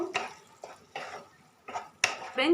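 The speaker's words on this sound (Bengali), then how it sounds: "একটু নেড়ে নেব যাতে ডিমের গন্ধটা চলে যায়, মশলার সাথে ভালো করে নেড়ে নেব" Egg chicken keema being stirred with masala in a pan: a quiet run of scattered scraping clinks and taps of a utensil against the metal, irregular and close.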